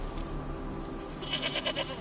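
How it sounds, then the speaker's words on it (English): A goat in The Witcher 3 bleats a few short, wavering cries in the second half, over a steady ambient bed of game background sound. "Here, goat."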